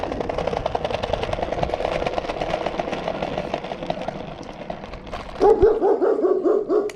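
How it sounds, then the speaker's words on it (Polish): Dogs bark in a rapid run of close, loud yaps near the end of a ride on a Kugoo S1 electric scooter, following several seconds of steady wind and motor rumble. "Psy szczekają"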